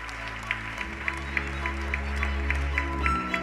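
Audience applause at a conference as speakers are called onto the stage, a steady ripple of clapping from a moderate crowd lasting the whole moment, with faint background murmur.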